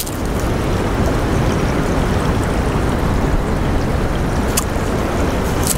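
Stream water gushing along the Farmington Trail at St Joe State Park in April, a steady, loud broadband rush that runs evenly throughout with no talk.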